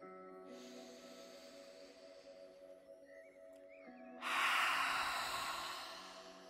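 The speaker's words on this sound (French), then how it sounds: "Lâchez votre expire en soufflant totalement, bouche ouverte avec énergie" A strong, breathy exhale through an open mouth during a yoga breathing exercise rises suddenly after a quiet stretch, a single loud whoosh that fades out gradually over a couple of seconds.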